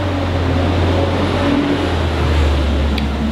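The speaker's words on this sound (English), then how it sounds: "Another fire truck." A loud fire truck drives by with its lights on and no siren, a steady low engine rumble and road noise filling the whole stretch at close range.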